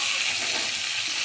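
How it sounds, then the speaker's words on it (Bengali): Pointed gourd pieces sizzle steadily in the same hot oil used for frying prawns, a close, continuous frying hiss with faint stirring and no speech. "এবার আমি একই তেলের মধ্যে পটলগুলো ছেড়ে দেব। পটলগুলোকে এবার তেলের সাথে ভালো করে নেড়ে নেব।"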